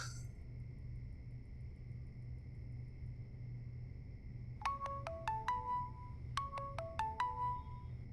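A steady electronic tone, then two bursts of a chiming phone ringtone with rapid repeated notes over a low rumble, in a TV drama scene.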